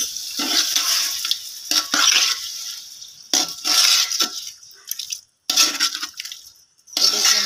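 Meat stirred in a pot while cooking biryani, heard as loud, watery bursts of scraping and sloshing that come in uneven waves and are broken by short pauses, with no talk.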